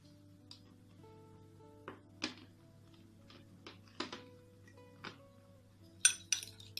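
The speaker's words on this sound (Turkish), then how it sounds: "Bunu bir kere daha mikser veya çatal yardımıyla iyice zeytinyağını ve yumurta beyazını birbirine yedirin." A fork whisks egg white and olive oil in a bowl, giving sparse, light metallic clinks about once a second, close and fairly faint, with a brighter flurry of taps near the end.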